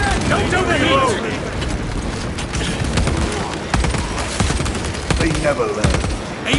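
Rapid gunfire in Warhammer 40K: Space Marine 2, a dense continuous fusillade of machine-gun bursts with explosive booms, loud and close, with shouted voices mixed in.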